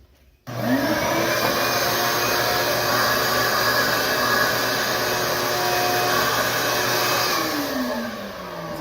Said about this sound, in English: I'll kind of show you first how the vacuum does not work